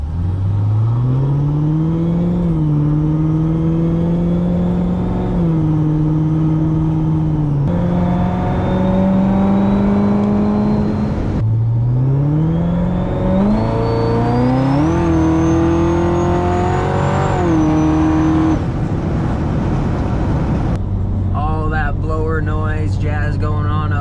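Fully built 427 twin-turbo Corvette with blower, headers, X-pipe and Corsa axle-back exhaust revs repeatedly, loud and close, its engine note climbing and falling in several long pulls with a whining turbo tone on top and a brief hiss at the end.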